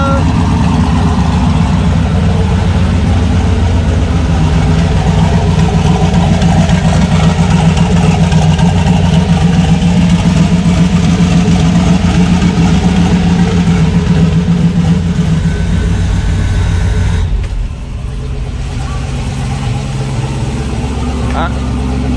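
Car engine idling steadily at its first start after a new turbo kit was fitted, a loud continuous low rumble that drops slightly near the end, with people talking over it.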